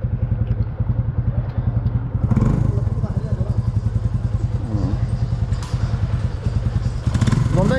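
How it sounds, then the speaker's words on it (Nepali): A motorcycle engine runs steadily just after starting, its close, loud, rapid exhaust pulse continuing throughout, with a few clattering thumps and people talking over it. "झन्दैको बाइक स्टार्ट पनि भयो"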